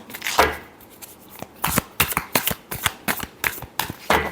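Tarot cards shuffled by hand in a quick series of crisp riffling and slapping bursts, close and fairly quiet, with no talk.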